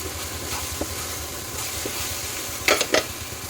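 Masala of tomato, turmeric and Kashmiri chili powder sautéing in a pan, a soft continuous sizzle with a few sharp spoon scrapes and taps near the end.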